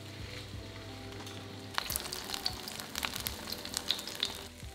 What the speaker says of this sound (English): Add the salmon to the pan, skin side down, and cook for 3 minutes until the skin is crispy.